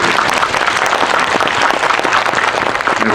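A loud, close round of applause from an audience at a film talk event, honoring the editor-in-chief, with dense, continuous clapping sustained throughout at full strength.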